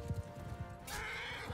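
In the video game Mount & Blade II: Bannerlord, a horse gives a loud whinny after a few thudding hoof clops, its high neigh rising close and clear over battle noise.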